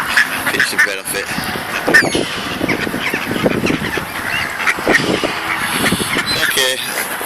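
Ducks and other birds squabble noisily over bread at Alton Towers, with repeated honks, quacks and squawks close by, mixed with a person talking over the flock.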